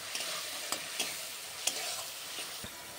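Meat cooks in spiced masala with a splash of water, sizzling continuously as a spoon stirs and scrapes the pan in a few sharp, close knocks.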